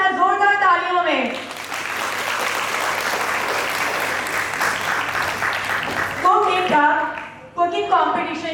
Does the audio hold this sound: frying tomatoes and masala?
no